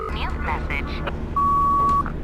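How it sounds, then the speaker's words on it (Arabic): A phone in the horror game The Baby in Yellow, Service to the Crown chapter, gives a single steady electronic ring tone lasting under a second, close and loud, following a few seconds of game sounds. "نفس صوت التليفون بتاع كل شابتر"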